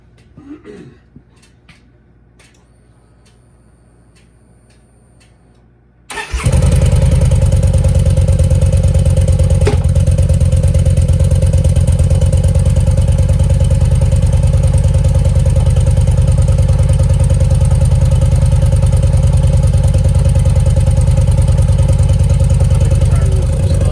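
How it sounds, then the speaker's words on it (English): Faint rustling and clinks, then a 2009 Yamaha V-Star Tourer motorcycle engine starts and runs loudly and steadily at idle in third gear, rear tire spinning, for the rest of the clip. "I'm gonna start the bike up"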